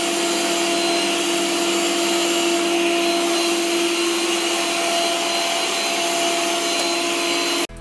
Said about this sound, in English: There's also Max Plus suction power mode in this robot vacuum cleaner, with a noise level of about 52 decibels.